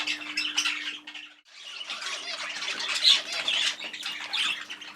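Young birds in an aviary nursery flight, some still carrying down, giving continuous shrill squawks and chatter, near and fairly loud with a brief pause early on.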